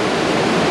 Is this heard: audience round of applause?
no